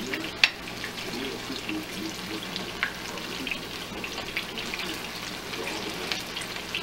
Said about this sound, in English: that's going to fry for another 3 to 4 minutes on that side